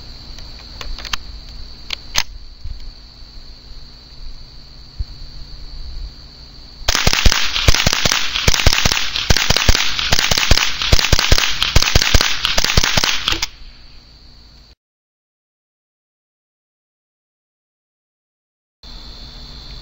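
Ruger 10/22 rifle firing CCI high velocity Mini-Mag rounds in a rapid string of sharp, loud cracks lasting several seconds, followed by quiet and then a stretch of dead silence.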